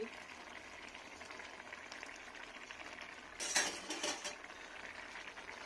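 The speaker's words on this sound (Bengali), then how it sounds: "দেখুন কত সুন্দর ফুটছে পুরোটা" A fish curry of bata pona fish with green mustard, cumin, dried chilli paste, onion and garlic boiling in a pot: a soft, steady bubbling hiss, interrupted midway by a brief louder clatter.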